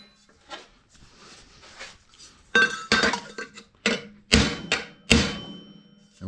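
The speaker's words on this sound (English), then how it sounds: "Now we're going to start hammering on these." Sharp metallic hammer blows on steel exhaust tubing being flared for a twin-turbo Ford F100, several ringing strikes at irregular intervals, close and loud with no talk.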